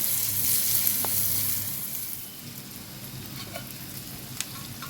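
Gram flour is stirred into a sizzling fenugreek and chili relish in a pan: a soft, steady frying hiss with occasional faint scrapes and taps of the spoon, quiet and without talk.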